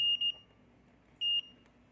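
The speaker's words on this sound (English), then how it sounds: "12 volt supply off, buzzer on." A 12 V DC relay-driven buzzer sounds in short, piercing electronic beeps: a quick double beep, a pause, then one longer beep, close and clear in a quiet room.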